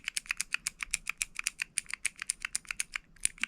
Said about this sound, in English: makes a satisfying little keyboard sound